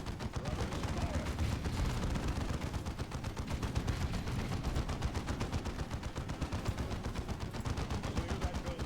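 A Space Marine squad in Dawn of War 2 fires steadily, rapid overlapping bursts of gunfire crackling without pause, loud and dense across the whole stretch, with no talk over it.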